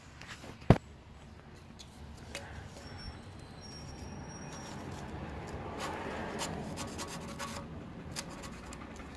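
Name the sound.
scraping grime off a '51 Chevy engine mount area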